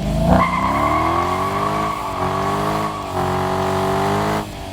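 A Dodge Challenger SRT8's deep, throaty 6.4-liter Hemi V8 revs up close, its rumbling pitch climbing and settling in a few sustained surges before dropping off.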